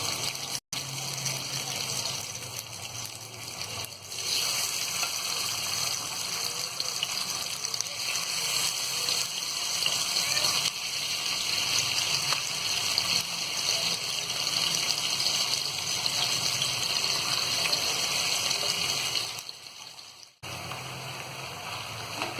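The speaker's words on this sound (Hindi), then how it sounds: "अब हम इसमें एक एक पीस करके बड़े सावधानी से इसमें हमें तेल में डाल देंगे।" Chicken pieces for masala fry sizzle in hot oil: a continuous, hissing bubbling that stays loud and even throughout, dipping briefly near the end, with no voices.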